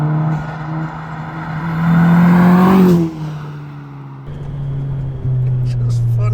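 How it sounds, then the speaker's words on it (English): A loud van engine with a decat exhaust, a Volkswagen Caddy TFSI, revs up, roars for a second, then drops back to a deep, rumbling idle before climbing again, close by. "It's just funny that a van just makes that much noise."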